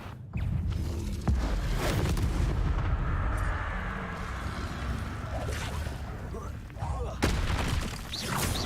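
Confringo spell casts in Hogwarts Legacy go off in heavy explosive bursts over a dense, continuous roar of combat effects, with a louder blast near the start and another toward the end.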